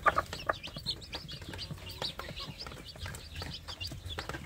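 Newly hatched kampung chicken chicks peeping softly in the morning, thin high chirps scattered irregularly among faint clucks and rustling, fairly quiet and close.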